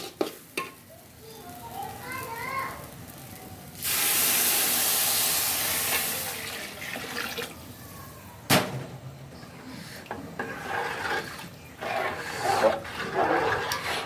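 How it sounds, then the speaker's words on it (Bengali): Water hits a hot pan of frying rice for pulao with a sudden loud hiss of steam that lasts a few seconds and then fades into bubbling. "আমি এখন দিয়ে দিব জল"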